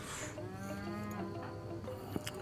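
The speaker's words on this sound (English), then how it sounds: "Ooh, you guys have cows," Cattle in a video game moo in long, drawn-out low calls, one overlapping another, fairly close and clear over soft background ambience.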